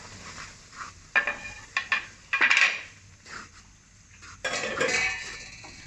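Wheat flour goes into ghee in a pan and is stirred, heard as metallic clinks and scraping of a spoon against the pot, with a busier scraping burst toward the end.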